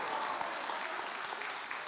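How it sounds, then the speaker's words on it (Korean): A church congregation applauds together during a testimony meeting, many hands clapping in a steady, even roar throughout without any voices. "40명 박수 치고,"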